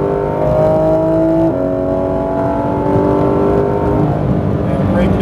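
Porsche 991 GT3 RS engine pulling hard on a track at Speed Vegas in Las Vegas, a loud steady rising drone that shifts up partway through, with an instructor talking over it.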